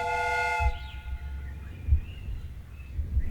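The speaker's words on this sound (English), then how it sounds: "The steam whistle is ready to be used." A steam whistle in the Sherlock Holmes Crimes and Punishments game blows a steady harmonic tone for about half a second and then cuts off, leaving low rumbling thumps and a faint background hiss.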